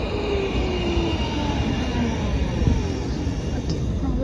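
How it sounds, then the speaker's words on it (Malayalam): A tram pulling into a stop in Germany, its steady rolling rumble and faint rail squeal building close by, with a brief louder clunk near the end over constant street noise. "ഇതാ വരുന്ന ട്രാമാണ് നമുക്ക് പോകേണ്ട ട്രാം."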